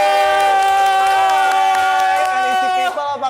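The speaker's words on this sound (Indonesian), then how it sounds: "Beri tepuk tangan yang meriah untuk Kak Ricky Cuaca" A crowd welcoming a guest onto a stage with loud, sustained applause and cheering over bright, tonal stage music, the noise carrying on throughout and easing slightly at the very end.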